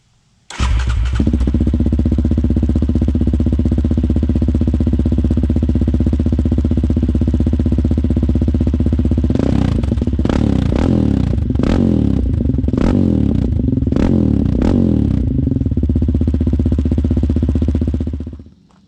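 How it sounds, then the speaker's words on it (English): A motorcycle fitted with Barkers Performance dual exhaust cranks and fires up, then idles loud and close, with a few sharp throttle blips later on before it shuts off. "let's do a start of the exhaust"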